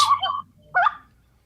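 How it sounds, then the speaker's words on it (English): Birds call outdoors in two short, honking, fowl-like bursts separated by a brief pause, fairly close and clear against a quiet background. "Oh, I hear some birds."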